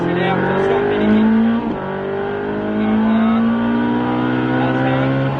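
Rally car at full throttle on a closed spring racing course near Albi, engine revving hard and climbing through the gears with a loud, steady roar, heard from inside the cockpit.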